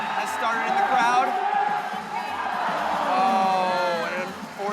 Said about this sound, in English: Matt Bolt chant has started in the crowd